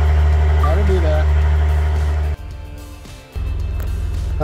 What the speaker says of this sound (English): Started the car up